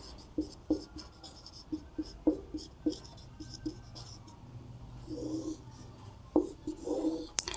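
A hand writes a maths formula, with short scratchy pen or chalk strokes in an irregular rhythm, close and moderately quiet, with no speech.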